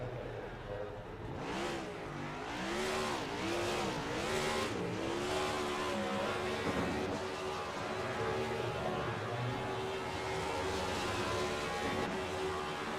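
Race cars in a racing video game at Kansas Speedway stream past in a dense pack, engines rising and falling in pitch with each pass as the traffic goes by, a continuous loud engine roar throughout.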